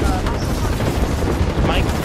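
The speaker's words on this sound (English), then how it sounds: "People are shooting you from behind" Gunfire in the video game Apex Legends, a dense, loud continuous rattle of shots and booms filling the whole short stretch.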